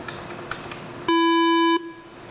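An E-Metrotel UCx50 phone system sounds its incoming call buzz, a single steady electronic tone lasting under a second, loud and clear against a quiet background.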